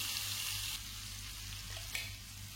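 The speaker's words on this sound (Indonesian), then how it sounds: "Kita tumis dulu bumbu yang udah dihaluskan tadi." A ground spice paste is sautéed in hot cooking oil, giving a steady, bright frying sizzle with soft stirring scrapes, fairly close and quiet, with no one talking.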